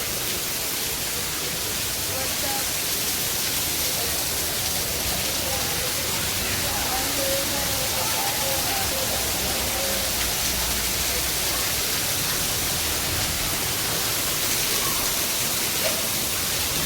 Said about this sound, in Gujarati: વરસાદ તો ફૂલ બાકાથી બોલાવે છે